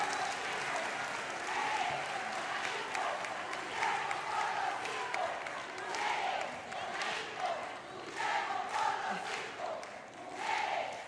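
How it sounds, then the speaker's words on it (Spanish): Studio audience at a Venezuelan presidential broadcast applauding with shouts and cheers, a crowd roar that swells and fades in waves at moderate distance, with some voices calling out through it. "un aplauso a los cinco héroes prisioneros del imperio"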